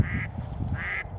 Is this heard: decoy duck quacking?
yes